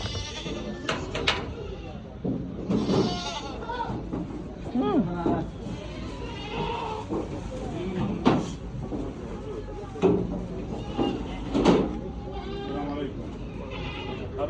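Goats and fat-tailed sheep bleat repeatedly at close range at a livestock market, scattered calls overlapping with people talking and occasional knocks and clatter.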